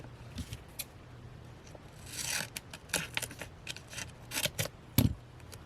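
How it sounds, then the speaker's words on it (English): Scissors snip through small pieces of tape at a crafting desk, several short crisp cuts and scrapes scattered in an irregular rhythm, close and fairly quiet with a low hum beneath. "So I'll just I'll cut like some little pieces like this and put there"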